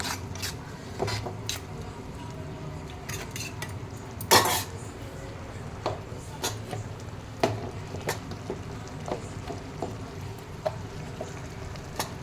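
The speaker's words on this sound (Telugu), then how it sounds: "ఇప్పుడు ఇందులో టమాటా ముక్కలు వేసుకొని కొంచెం బాగా కలిపెట్టుకోవాలి." Tomato pieces get stirred in a pan for a prawn and taro curry, with repeated metal spoon clacks and scrapes against the pan at an uneven pace, one louder clatter midway, over a low background hum and no speech.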